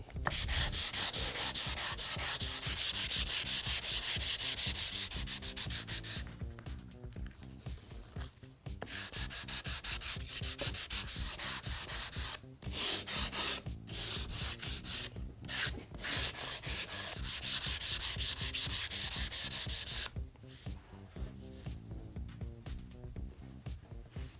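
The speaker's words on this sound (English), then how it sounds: "Make sure you always sand with the grain." Sanding water-based wood filler by hand along the grain, a continuous close scratchy rubbing in long back-and-forth strokes with a few brief pauses, steady and fairly loud throughout.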